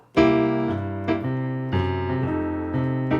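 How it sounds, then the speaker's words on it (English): Solo piano chords in a steady measure, with a light root ghost note tucked in near the end of the bar before the next chord, notes ringing and decaying cleanly. "The third way that I like to play the root ghost note is to put it on the and of beat 4, which sounds like this."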